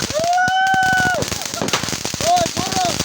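New Year fireworks explode in the sky in rapid, close, crackling bangs, with rising and falling whistling tones streaking between the bursts.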